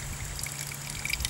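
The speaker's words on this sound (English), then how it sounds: "I'm just filtering the water right through the filter now, right into my cup" Water squeezed through a GoSun Flow filter trickles into a cup, a soft, steady close-up dribble with a faint gurgle that rises slightly near the end.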